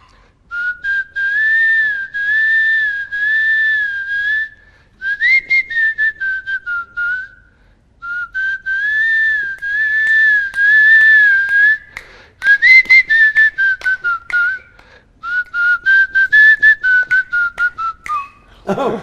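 A person whistles a film song tune from the Ravi Teja movie Power, in clear, loud melodic phrases broken by short pauses and some quick staccato runs, close and alone.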